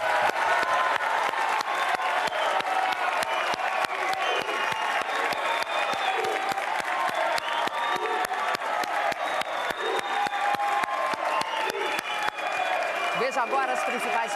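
Studio audience at a televised Rio de Janeiro mayoral debate bursts into sustained applause for eight candidates, dense steady clapping with scattered cheers filling the whole stretch at even loudness.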